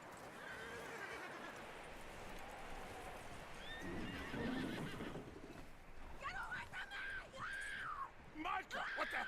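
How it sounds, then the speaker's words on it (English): A skittish wild horse in a western video game whinnies and neighs repeatedly in high wavering calls, with hooves clopping and game dialogue between them. "That looks like a decent horse."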